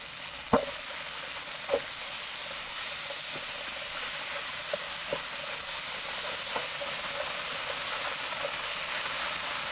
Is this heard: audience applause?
no